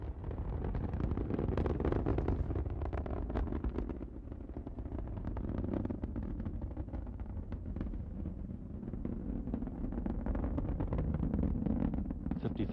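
Space Shuttle Endeavour's three liquid-fuel main engines roar during the STS-69 launch, a deep, rumbling, crackling roar heard from a distance, continuous and heavy in the low end throughout.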